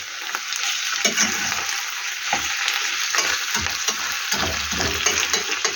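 A large potato frying in a home pan gives a steady, loud sizzle throughout, with occasional stirring scrapes and crackles and no talk.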